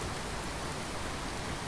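Steady video game rain pours in an even, dense hiss with no breaks, moderately loud and heard alone.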